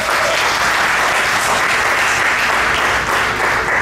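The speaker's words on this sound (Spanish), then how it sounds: "Denle un aplauso bien fuerte al Señor." A church congregation at a Spanish-language service claps loudly and continuously, a dense, close wall of applause filling the room without letup.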